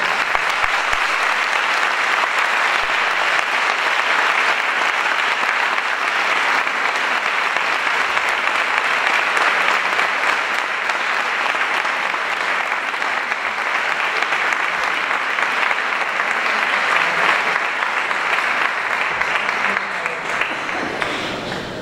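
A concert audience at a Christmas concert by a municipal band in Sanlúcar la Mayor bursts into loud, sustained applause, a dense wash of many hands clapping that holds steady for over twenty seconds with no speech over it.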